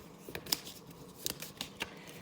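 A deck of cards for a wargame is being shuffled up close. Quiet, irregular riffles and snaps come in short bursts, and no one talks.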